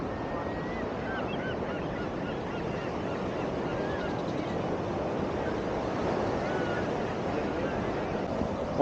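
Ocean waves wash onto the beach at Karamea in a soft, continuous surf rush mixed with wind, fairly distant and steady, with faint background sounds but no clear talking.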